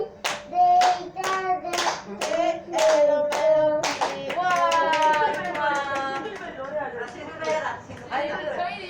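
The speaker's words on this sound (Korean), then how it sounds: "서연이 박수" Hands clap in a steady rhythm at a Christmas church service, close and distinct beats along with children singing and chatting voices.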